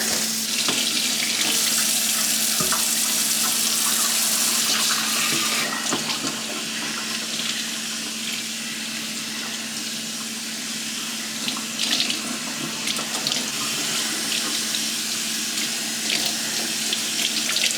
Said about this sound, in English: Rinse it under warm water.